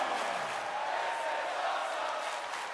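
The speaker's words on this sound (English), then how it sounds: "The crowd chanting that this is awesome" A wrestling arena crowd chants and roars as a steady, dense wall of voices, with no distinct individual words standing out.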